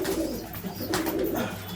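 A Madrasi pigeon coos in a lovebird colony, a low soft throaty call over a brief stretch, close by with faint background noise.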